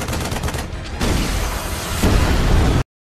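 Gunfire in a film scene rattles off as dense, loud bursts of shots and explosive pops across the whole span. It ends abruptly, with no talk over it.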